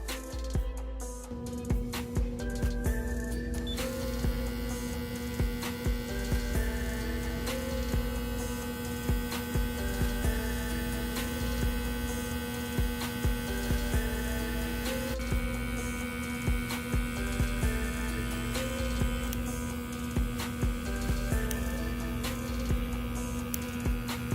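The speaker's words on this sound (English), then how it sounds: "I'm gonna actually let you guys hear how the clipper sounds" A steady electric buzzing hum from a SHINON SH-1880 hair clipper drones continuously throughout, with a constant mains-like tone and faint rattling texture, fairly close and without any speech.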